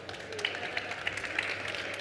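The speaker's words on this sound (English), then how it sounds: "if we can just give Daniel a quick round of applause" An audience at a talk on building muscle with a plant-based diet gives a brief round of applause, light and somewhat distant claps in a loose rhythm, fairly quiet throughout.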